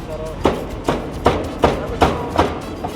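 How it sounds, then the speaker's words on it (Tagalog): A cleaver chops crispy pork bagnet on a board at a street food stall in Legazpi, Albay. About six evenly spaced, solid thuds land roughly every half second, close and clear. "hinihiwa niya na chop, chop, chop, chop, chop."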